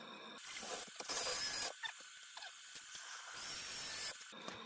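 A power driver whirs in two bursts, driving large screws into a door frame to reach the stud, close and fairly quiet with brief pauses between.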